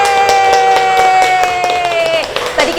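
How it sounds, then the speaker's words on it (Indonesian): Studio audience on a cooking show clapping in a fast, steady patter, with crowd cheering and bright music over the top. "mana nih tepuk tangannya?"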